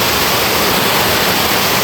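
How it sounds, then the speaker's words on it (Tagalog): Heavy, unbroken rain pouring down in Bicol, a dense and loud hiss that stays even and constant from start to finish with no voices. "tuloy-tuloy pa rin yung ulan, no?"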